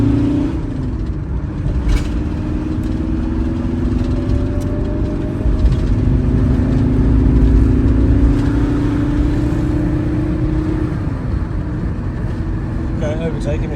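A VW T4 van engine pulls hard through the gears toward about 4,000 rpm, a steady loud drone with rising pitch sweeps and a shift near eleven seconds, while people talk over it inside the cab.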